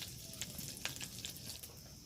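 Crabs fry in ghee in a wok, giving a quiet, continuous sizzle with small pops and a stir or two, and no voices.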